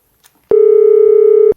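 A single loud, steady telephone tone sounds for about a second after a call is hung up, starting and stopping abruptly after a faint click.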